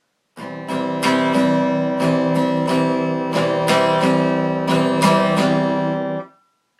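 Acoustic guitar chords strummed repeatedly in a steady rhythm, about a dozen bright strokes ringing together, close and clear with no talking.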